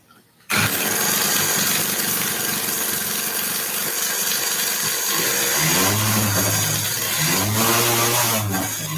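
A motorcycle engine cranks and catches in a shop, then runs steadily and loud throughout, with a few revs rising and falling near the end; no talking over it.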